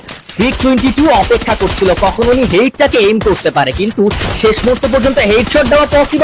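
Rapid bursts of gunfire from the battle-royale game Free Fire during a tournament match, loud and close, with a commentator talking excitedly over the shots throughout.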